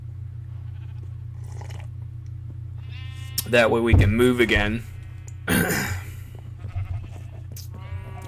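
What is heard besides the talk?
sheep bleating in Minecraft video game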